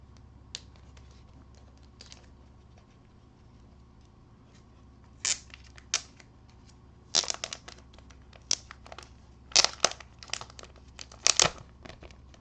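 Crinkling and tearing bursts of packaging come in irregular clusters as a comics mystery box is opened, growing busier toward the end over a quiet, steady background hum.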